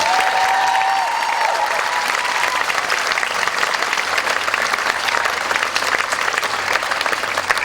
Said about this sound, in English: Big round of applause for Maria.